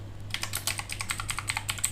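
Rapid, close keystrokes on a computer keyboard as a search is typed into Netflix, a quick irregular clatter of clicks with no talking.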